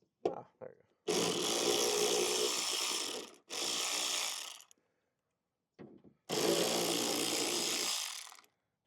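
A power tool whirs in three sustained bursts of a few seconds each while removing 7mm bolts from a car during a carbon fiber spoiler install, with short clicks and pauses between runs.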